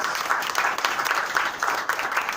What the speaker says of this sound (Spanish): Un aplauso para Armando Uribe.